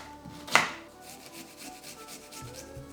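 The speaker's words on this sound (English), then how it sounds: "I'm just going to quickly chop up a couple of onions and a couple of garlic cloves as well" A single sharp knife chop on a cutting board, followed by soft scraping and rubbing as onions and garlic cloves are prepared for a curry, close up with no voices.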